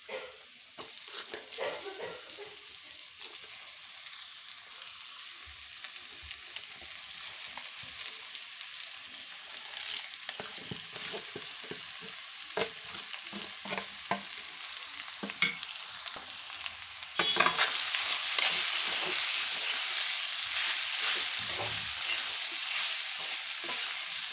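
Mashed potato is added to a hot frying pan and stirred, giving a steady soft sizzle with scraping stir sounds throughout, growing a little louder near the end, with no talking.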